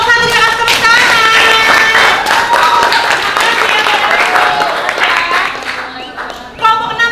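Classroom applause for a student group after its presentation, a dense burst of many hands clapping mixed with excited voices and chatter, fading briefly before a last flurry.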